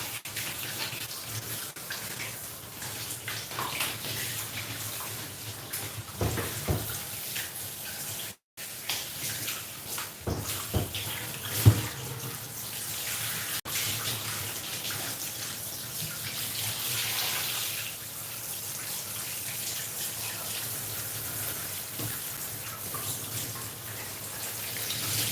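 Running water from a bathtub faucet rinses a doodle dog during grooming, a steady close gush with splashing changes as the stream moves over the coat, briefly interrupted midway.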